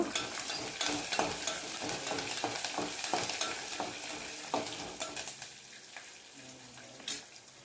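Curry leaves and green chillies are stirred into wheat rava upma frying in a pan. A close, steady sizzle carries rhythmic scraping strokes that thin out toward the end.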